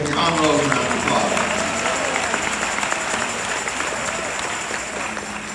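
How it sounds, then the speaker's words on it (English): Audience applause at a congressional candidacy announcement in a community gathering at Antioch, steady clapping from a crowd that fills the whole stretch, with a voice briefly audible underneath. "you all give a special round of applause to my Aunt Rose"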